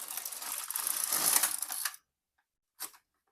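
A knitting machine carriage pulled across the needle bed knitting one row of a top, a loud continuous mechanical whirr and clatter for about two seconds, then silence and a short faint clack.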